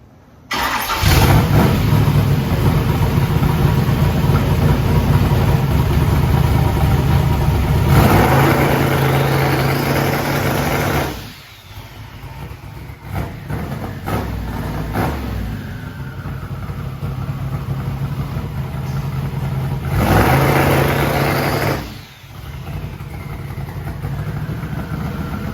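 A methanol-fuelled drag race car engine fires up and runs loud and close, holding a heavy idle, then surging through two strong revs with a drop back to a rougher idle between them.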